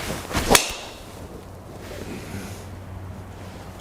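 A Wilson Staff Cortex carbon driver strikes a golf ball outdoors with one sharp, bright crack near the start. Steady wind rumble and breezy noise follow, with no voices.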